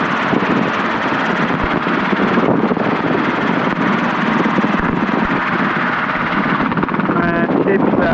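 A helicopter in flight near an airfield, its broad engine and rotor roar holding steady and loud throughout, with radio-style talk faintly mixed in.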